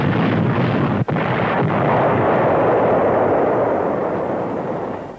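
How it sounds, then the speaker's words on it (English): A ton-class bomb blast in archival wartime newsreel footage: one loud, sustained roar of explosion with heavy rumble, broken by a brief dropout, then fading slowly. "The bomb loaded with a ton of explosive has terrific concussive force."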